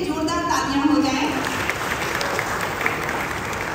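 Audience applauding at a musical charity show, a burst of clapping that fades slightly over a few seconds, following an announcer's voice at the start.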